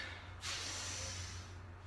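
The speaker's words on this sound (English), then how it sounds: "big deep inhale through your nose" A single deep, sharp inhale through the nose during a boxing and core workout, a quick airy hiss close to the microphone that rises suddenly and then trails off into quiet background hum.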